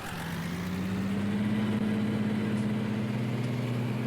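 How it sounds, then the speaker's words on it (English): A custom engine sound for a Lamborghini tractor in a video game mod, a steady low droning hum with a slight rise in pitch, continuous and fairly quiet with no talking. "Custom engine sounds again."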